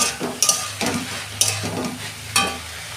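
Brinjal frying in a pan is turned and stirred, close sizzling hiss with several sharp scraping strokes of a spatula against the metal, loud and near, with no talk.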